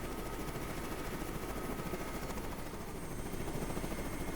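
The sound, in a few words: helicopter flying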